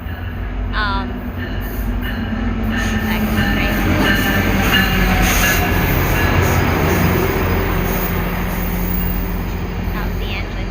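A train engine rolls past, a loud rumbling rush that swells to a peak midway and then tails off, with some wheel clatter and a brief squeal, while people talk over it.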